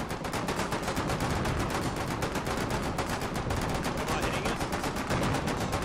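Dense, continuous automatic gunfire and rapid shots during a Foxhole naval battle, loud and relentless throughout with little pause.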